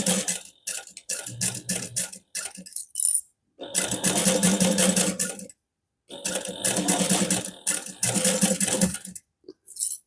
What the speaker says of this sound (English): I make sure that I stop sewing when I get to the end of the zipper panel.